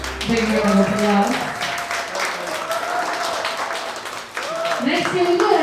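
Wedding guests clapping in a big round of applause, a dense, sustained patter filling the room, with voices and cheers rising over it and a short dip before the clapping swells again.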